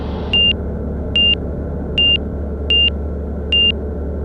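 An aircraft engine drones low and constantly while a warning beeper sounds five evenly spaced short beeps above it, each about a second apart.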